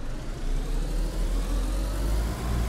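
A car engine idles in the video game DayZ, a steady low rumble holding at an even level throughout with no talk.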